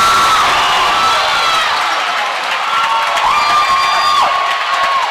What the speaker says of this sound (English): Now the crowd's into it a little bit.